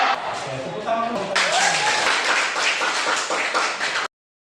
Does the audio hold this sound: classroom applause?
yes